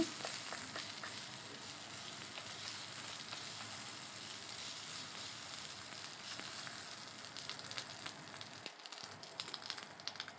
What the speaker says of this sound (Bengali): সবজিগুলো আদার সাথে আমি এক মিনিটের মতন নেড়ে চেড়ে নেব